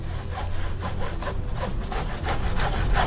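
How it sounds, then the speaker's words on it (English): A finger resting and rubbing against a painting canvas while a wave is brushed on, a soft, continuous scratchy friction with faint rhythmic strokes, close and quiet, with no voices. "That sound you can hear too, by the way, is my finger resting on the canvas"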